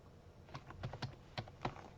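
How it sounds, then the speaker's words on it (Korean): Close, quiet keypresses on a computer keyboard as short text is typed, a handful of irregular clicks spread across two seconds with no talking. "제주도 여행이라고 한번 써보겠습니다."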